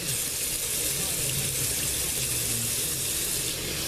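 Water streams steadily from a tap while conditioner is rinsed out of afro hair at home, a constant close hiss and splash with no breaks.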